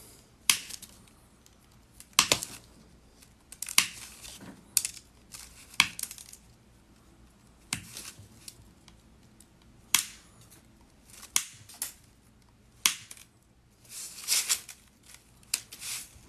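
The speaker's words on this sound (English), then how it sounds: "That's right, we're cutting more off." Pliers snip rings off a chainmail glove in sharp, separate metallic clicks and clinks, about a dozen spaced a second or two apart, close up in a quiet room.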